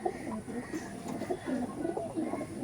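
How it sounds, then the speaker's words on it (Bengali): A male Teddy Kamagar pigeon coos softly in repeated low, throaty phrases, faint and close, with light background noise and a hint of voices. "এটা ছিল নর পায়রা"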